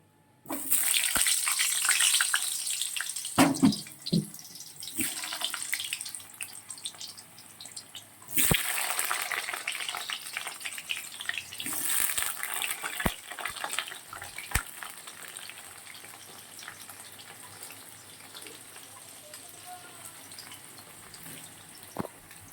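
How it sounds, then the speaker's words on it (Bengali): Potatoes fry in hot oil in a wok for a goat mutton dish, a hissing, gushing sizzle with occasional sharp clinks and bursts, fairly close and varying in loudness. "ভালো করে লাল লাল করে ভেজে নেব।"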